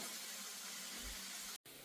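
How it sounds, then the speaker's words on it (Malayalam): Sliced ginger frying in hot oil in a pan for an Onam ginger curry gives a steady close sizzling hiss, cut by a brief break near the end. "ഇതാദ്യം നമുക്ക് ഇഞ്ചി ഒന്ന് വറുത്തെടുക്കാം"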